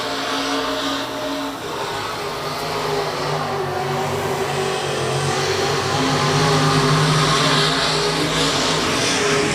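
Three race cars running evenly spaced in a heat race at Electric City Speedway in Butler, Missouri, give a continuous loud engine roar. The roar swells and fades slightly as they circle the track, and there is no talking.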